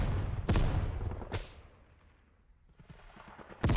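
Rifle shots on a shooting range in the tactical video game Ground Branch: three sharp, loud single cracks spaced about a second or more apart, each with a short decaying tail, no talk.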